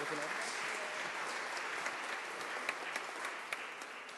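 Audience applause in a lecture hall welcoming a senator, a dense steady clapping that continues throughout, with voices mixed in.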